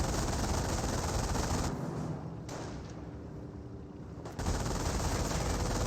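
Base machine-gun emplacements fire in the Company of Heroes 1 strategy game, a dense, continuous rattle of automatic fire that dips briefly in the middle and then returns at full force, with no talking.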